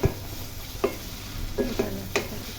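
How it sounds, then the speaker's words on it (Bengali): Yard-long beans being stirred in a hot pan, with a few sharp spatula scrapes and knocks over a soft background sizzle, close up. "আমি উঠাই এগুলোকে আরও কিছু ভালো করে নেড়ে ছেড়ে"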